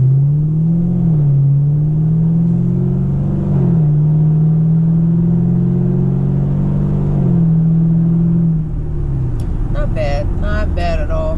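A car engine pulls steadily through the gears while driving, shifting from third into fourth, with a loud, continuous droning hum that briefly dips at each shift before climbing again.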